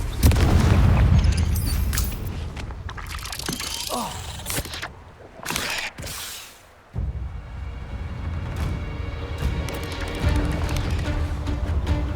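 Confringo blasting spell exploding in the Hogwarts Legacy video game, a string of heavy booming blasts with crashing debris and rumbling low end, loud and close, ending in a sustained roaring aftermath.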